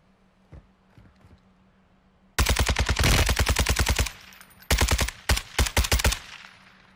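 RPK light machine gun fire in the Warzone 2 video game, loud close bursts of rapid shots followed by several shorter volleys, with faint game ambience before the shooting starts.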